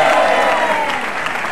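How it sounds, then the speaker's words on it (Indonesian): Studio audience applause on an Indonesian television talk show, a dense, loud, continuous clapping wash with no speech over it. "Luar biasa, tepuk tangan sekali lagi."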